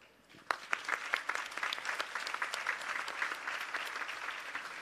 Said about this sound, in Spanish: Cerramos con un fuerte aplauso